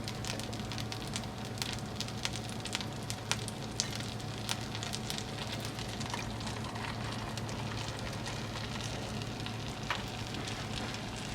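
A grilled cheese sandwich frying in butter in a pan over low heat, a soft, continuous sizzle and crackle with fine popping, steady and fairly quiet throughout.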